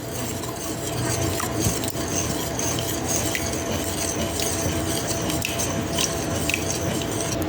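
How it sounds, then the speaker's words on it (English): A whisk stirs a heavy cream mixture in a bowl for an ice cream cake, giving a continuous wet, swishing scrape with light clinks against the sides, close and steady throughout. "I'm just giving it a nice whisk until it's completely smooth."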